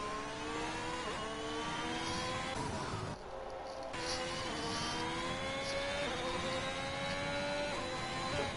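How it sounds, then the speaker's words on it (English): Race car engine from a racing game, high revs whining steadily as it spins its tires in a gravel trap, with shifting pitch sweeps and a short dip midway, loud and continuous with no talk. "he now does a bit of a bit of burnout in the gravel trap"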